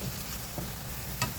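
Chunks of carrot and potato fry briefly in a pan, giving a faint, steady sizzle with a couple of soft stirring scrapes. No one speaks.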